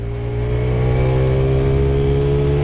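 A 2024 TVS Radeon 110 cc motorcycle pulls away in second gear, its engine note holding a steady, fairly loud drone that rises slightly after a brief dip at the start, with no one speaking.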